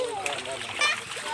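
Water splashing and splattering in a village stream, close and lively, with a voice talking over it throughout.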